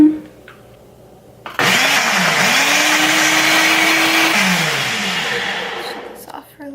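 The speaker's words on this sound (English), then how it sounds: "So I just got done blending" A kitchen blender whirs loudly as it blends golden milk with a pinch of cinnamon, its motor surging up steadily and holding a high whine before winding down, preceded by a brief quiet moment.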